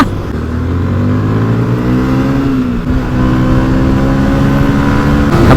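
A Yamaha NMAX scooter engine hums on the road while riding, a close, steady droning whine with rising pitch as it accelerates, briefly dipping midway before picking back up.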